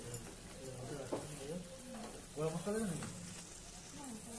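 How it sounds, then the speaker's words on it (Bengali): Chicken rezala stirred in a pan gives a soft scraping, simmering rustle that runs steadily under a person talking. "খুব ভালো করে নেড়ে চেড়ে দিলাম একটু।"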